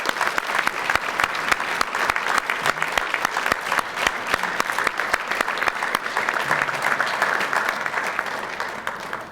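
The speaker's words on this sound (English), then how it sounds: "let's give them a big round of applause." Sustained applause at a JROTC superintendent's breakfast for Wichita Public Schools instructors, many people clapping in a steady, rapid patter that stays loud and fairly close for over nine seconds, with no talk on top.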